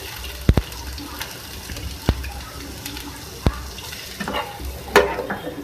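Chopped medium-small onion frying in about two tablespoons of oil, a steady low sizzle broken by a few sharp clicks and clatters of stirring, fairly quiet and close.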